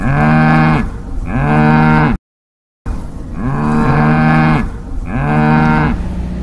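Cattle on a ranch moo loudly and close by, several long drawn-out lowing calls in succession with a brief silent gap midway.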